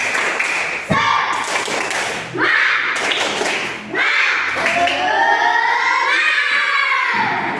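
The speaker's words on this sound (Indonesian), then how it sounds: "Tepuk semangat." A classroom of fifth-grade pupils performs the rhythmic 'tepuk semangat' spirit clap, loud patterned clapping mixed with children's chanting voices and shouts.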